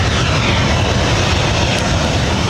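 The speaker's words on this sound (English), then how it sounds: "That was Singapore Airlines Flight 11 taking off to Tokyo Narita on a 777-300ER." Singapore Airlines 777-300ER jet taking off at LAX, a loud, steady roar of engines close by, sustained broadband rumble with no talk over it.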